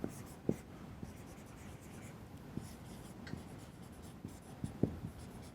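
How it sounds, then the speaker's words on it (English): Chalk scratches and taps across a blackboard during a lecture on k-mers, a soft dry scraping with sharp little clicks of the stick striking the board, quiet and close with no talking. "I need to write from this angle."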